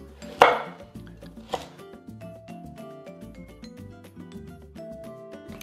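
A knife chops onion, celery and carrots into large rustic pieces for a Salvadoran beef soup. A couple of firm thuds on the board stand out early, then quieter cutting continues under soft background music, with no talking.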